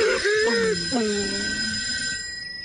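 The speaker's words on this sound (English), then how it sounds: "there's a phone in the White House and it's ringing." A telephone in the White House ringing in the middle of the night, a steady electronic ring running through the clip while a voice talks over it.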